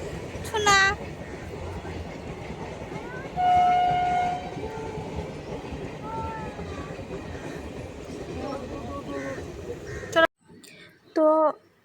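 Train rolling past a railway level crossing with the gate down, a steady rumble of wagons and clatter filling the clip, short horn blasts near the start and middle, then a brief quiet gap before two more horn toots.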